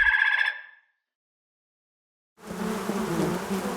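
Bee buzzing, a short bright whining drone at the start that cuts off, followed by silence and then a denser, noisier buzzing rumble that continues to the end.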